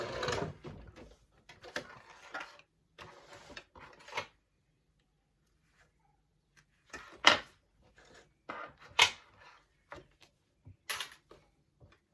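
A domestic sewing machine stitching through a Harlequin vinyl pouch and thin waterproof canvas in short, quiet runs, separated by pauses and sharper mechanical clicks near the end.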